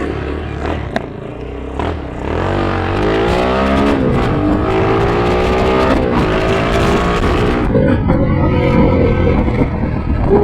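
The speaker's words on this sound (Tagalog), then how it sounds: "Sarap gamitin na naman ang motor natin." Engine of a GPR Explorer 250 motorcycle, fresh from repair, starting up, then revving loudly and rising in pitch close by for several seconds before settling into a rough, throaty idle.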